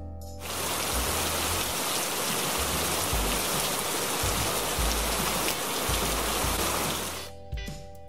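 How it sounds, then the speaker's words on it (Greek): Steady rain pours down in a dense, continuous hiss for about seven seconds, loud and close, starting and stopping abruptly over a faint musical tone. "Βροχή."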